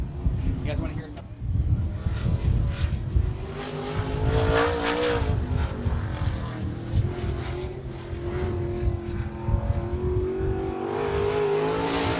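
A race car on a qualifying lap at Willamette Speedway, its engine revving and droning as it passes with rising and falling pitch, under a voice, presumably an announcer.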